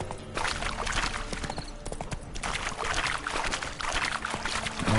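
Roach the horse galloping in The Witcher 3, rapid continuous hoofbeats clip-clopping close and steady with ambient game noise behind them.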